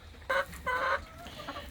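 Chickens cluck in a chicken run, a few short close bursts of hen calls in quick succession, with no talking.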